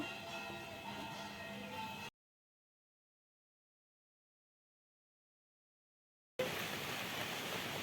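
Fish fries in a pan with a steady, even, low-level sizzling hiss, heard close, broken by a long stretch of silence before the hiss resumes.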